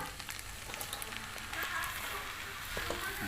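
Egg fried rice sizzles steadily as it is stirred in a hot pan with tomato and onion, a continuous close frying crackle with occasional scraping, no talking.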